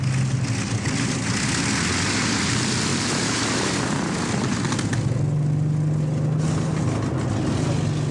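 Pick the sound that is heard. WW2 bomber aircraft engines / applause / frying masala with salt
WW2 bomber aircraft engines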